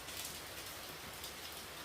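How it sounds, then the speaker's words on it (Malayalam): Heavy morning rain falls as a steady, even hiss of drops on surfaces, fairly faint and unbroken, with no voices. "ഭയങ്കര മഴ"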